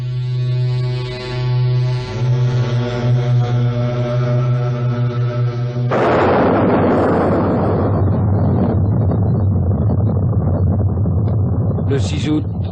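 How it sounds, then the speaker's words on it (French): Archival footage of the atomic bomb exploding over Hiroshima: sustained tonal music gives way midway to a sudden loud, broad roaring blast that rumbles on and slowly fades. "Le 6 août, une première bombe explose sur Hiroshima."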